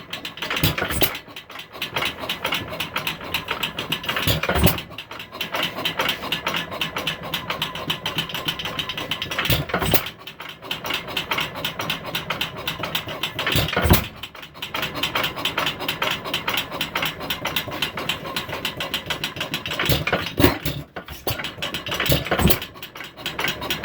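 A 1916 Woodpecker hit-and-miss engine being cold started and running, with sharp periodic firing bangs roughly every four to five seconds over a steady mechanical clatter, close and fairly loud with no talk.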